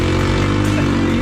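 An Alibaba single-cylinder four-stroke snowmobile engine runs at full throttle on ice, a loud, close, buzzing drone held steady and unbroken for about a second.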